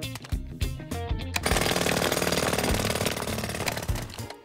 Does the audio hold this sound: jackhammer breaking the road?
yes